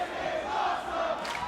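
A wrestling arena crowd chanting in unison, a steady, dense roar of many voices carrying a sustained tone through the whole moment, loud and unbroken.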